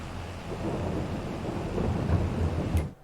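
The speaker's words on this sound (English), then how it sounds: "Oh, is it raining? We need to stop." Rain and rumbling thunder in Farming Simulator 22 on a Green Valley Nebraska map, a steady wash of rainfall with low rolling thunder building through the clip before it cuts off.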